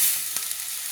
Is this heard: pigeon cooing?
no